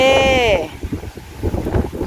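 Wind gusts outdoors at a rural family home on a cold morning, a steady low buffeting roar across the microphone. It follows a brief whistling tone at the start, and faint voices sit beneath it.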